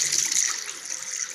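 Hot water gushes steadily from the tap of a wood-fired water heater in an off-grid setup, a loud, continuous hissing splash heard up close with no talking.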